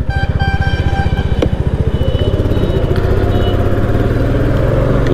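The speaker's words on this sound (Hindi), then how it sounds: "थोड़ा सा बाइक को तेज भगाते हुए" A Yamaha R15 motorcycle ridden fast on a group Sunday ride, its engine droning loud and steady with a rapid pulsing rhythm and rising pitch throughout, close to the rider with wind noise mixed in.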